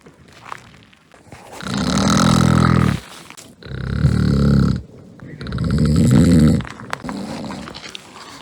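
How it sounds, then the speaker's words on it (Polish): Three long, loud snores rumble in a steady rhythm, each a deep rasping breath with short quiet gaps between, close and heavy. "Tu w okolicy coś strasznie chrapie."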